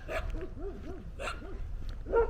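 A dog gives a run of short, repeated barks and yips close by, about half a dozen in quick rhythm with brief gaps, fairly faint and alone with no talk.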